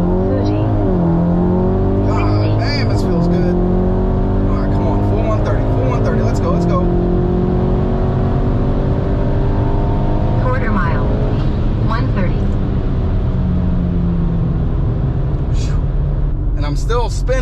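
Volkswagen MK8 on E85 with a Stage 1 tune launching hard on a drag run, wheels spinning as the engine revs climb through rising gear pulls, loud and continuous, with a person talking over it.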